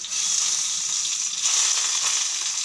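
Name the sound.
chopped garlic frying in a pan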